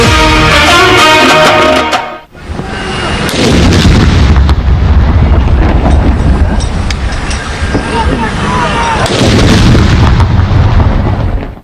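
Ceremonial cannon salutes fired in Pakistani cities for Independence Day on 14 August produce loud, heavy booms that roll on and on, with a brief drop between blasts.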